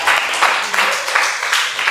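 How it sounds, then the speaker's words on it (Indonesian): Classroom applause from a group of students, a steady dense wash of clapping that swells and eases in a few pulses, fairly close and loud throughout. "silakan beri aplaus dulu"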